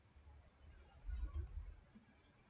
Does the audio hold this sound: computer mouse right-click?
yes